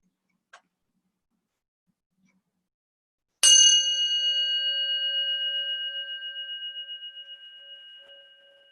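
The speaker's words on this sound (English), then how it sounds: "I'll ring the bell." A meditation bell struck once and left to ring, a clear bright tone with a long shimmering decay that slowly fades over several seconds in an otherwise quiet room.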